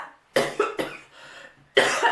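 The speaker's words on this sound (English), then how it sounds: "excuse me, I'm coughing." A person coughs several times close up, sharp harsh bursts in two quick clusters with a brief pause between, no speech.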